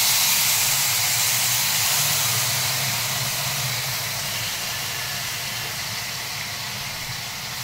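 Mashed bottle gourd (lau) goes into a hot pan of fried spices, setting off a loud, steady, close sizzle and hiss that fades slightly as it settles, with no talking.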